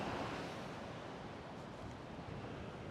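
Wind and surf rush at a cold, rainy coast during a fishing trip, a broad steady roar with wind buffeting the microphone and no voices.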